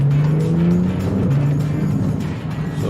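Four-wheel-drive Porsche 911 Carrera 4 GTS accelerating hard on a test drive, its engine note climbing loud and close inside the cabin, dipping briefly at a gear change before pulling strongly again.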